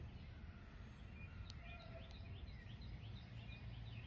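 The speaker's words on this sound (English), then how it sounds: "you hear the birds chirping, guys." Birds chirp outdoors in the morning, several small calls and short tweets scattered faintly over a steady low rumble of background ambience, with no talking.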